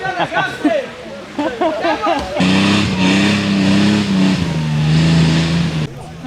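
People chat briefly before an off-road competition car's engine roars up to a steady, loud, droning rev at a hard off-road race in a Guria forest in Georgia, holding for several seconds before cutting off.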